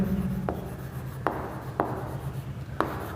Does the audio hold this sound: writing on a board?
yes